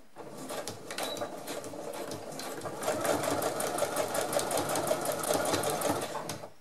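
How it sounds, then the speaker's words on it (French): A sewing machine runs a simple straight stitch on a small backpack project, its steady, rapid needle chatter close and continuous for several seconds with a slight rise in pace midway. "je vais coudre un point droit tout simple"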